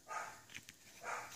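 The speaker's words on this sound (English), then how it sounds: "My dog starts to bark again, of course." A dog barks in a home craft room where paperclip embellishments are being made, two faint bursts of barking separated by a short pause, heard from a distance.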